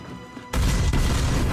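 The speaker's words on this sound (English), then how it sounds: "Explosion." An explosion in the animated series Arcane bursts in suddenly as a loud, close, broadband blast, then rumbles on steadily for about a second.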